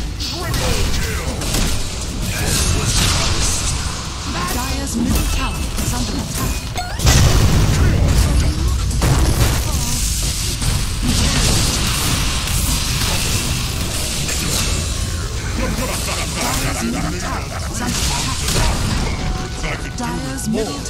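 Booming impacts and crashing bursts as a middle tower is attacked and falls in Dota 2, repeated thuds and clashes over continuous battle noise, with voices speaking.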